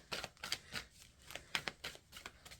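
A deck of cards is riffled and shuffled in quick, rhythmic flutters, a rapid series of soft papery bursts heard close and quiet with nothing else over them.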